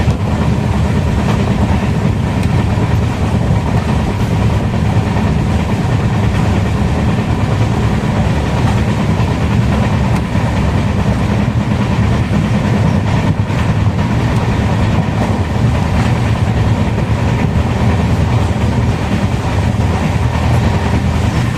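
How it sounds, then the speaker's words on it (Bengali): A train runs continuously through cloudy hills near Kurseong, a loud, steady rumble of wheels and carriages heard from on board, with a faint rhythmic clatter and no voices. "মেঘাচ্ছন্ন প্রকৃতির মধ্যে দিয়ে ট্রেন আমাদের ছুটে চলছিল"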